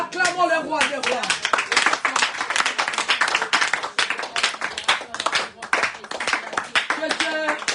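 A church congregation applauds together after a sermon, a dense, loud burst of rapid clapping that goes on throughout, with voices calling out over it.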